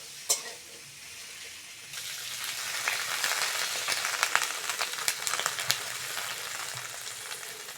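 Water poured into a pan of frying spring vegetables with data bori, brinjal and drumsticks, the oil sizzle swelling into a loud, steady hiss with sputtering crackles and a few utensil clinks, no talking.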